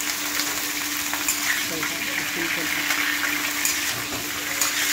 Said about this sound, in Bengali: আগে খালি গোবিটা ফ্রাই করে নেওয়া হচ্ছে